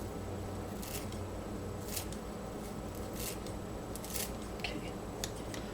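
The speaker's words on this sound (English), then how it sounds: "I'm just going to chop it quickly with my kitchen shears" Kitchen shears snipping fresh dill in a home kitchen, a run of quick, light crisp snips at irregular intervals over a steady background hiss, close and fairly soft.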